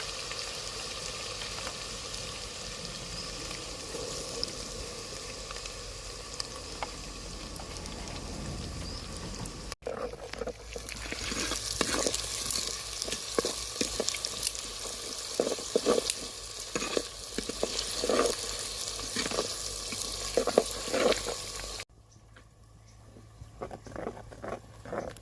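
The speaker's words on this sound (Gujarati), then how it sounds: "હવે આપણે આમાં નાખશું ડુંગળી." Onion frying in hot oil with whole spices, ginger and garlic in a hotel kitchen, a steady close sizzle that turns busier and crackling midway with scraping stirs, then softens near the end; no talk.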